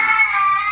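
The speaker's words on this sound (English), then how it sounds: "cat." A cat gives a single short, clear meow close by, with nothing else heard around it.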